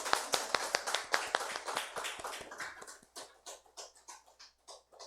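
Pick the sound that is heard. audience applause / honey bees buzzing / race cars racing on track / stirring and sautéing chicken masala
audience applause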